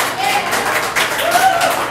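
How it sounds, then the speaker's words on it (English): Audience clapping at a live show, brief and close, mixed with cheering and voices over it. "It's a massive round of applause."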